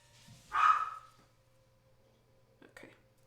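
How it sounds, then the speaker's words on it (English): A pet dog gives one muffled bark somewhere in the house, followed a couple of seconds later by a fainter second yip against a quiet room. "Whoa, my dog is barking."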